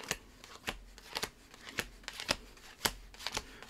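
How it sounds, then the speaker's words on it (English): Playing cards riffled in a left-right shuffle, heard as a series of sharp, crisp flutters and snaps repeating in irregular bursts, close and fairly quiet with no talking. "It's a left-right shuffle"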